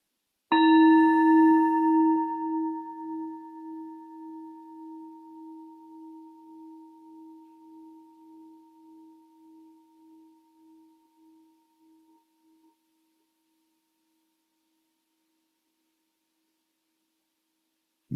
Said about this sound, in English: Just as the sound of the gong echoes